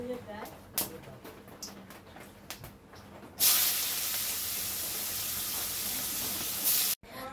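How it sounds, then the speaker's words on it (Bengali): Heavy rain falls during monsoon-season cooking in a home kitchen, a dense rushing downpour that sets in abruptly after a few quiet seconds with a voice and clatter, then roars steadily before cutting off. "আর জানো তো, এত বৃষ্টি পড়ছে"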